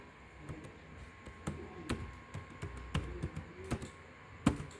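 Quiet, irregular keystrokes tap on a computer keyboard in short bursts with brief pauses, close and alone.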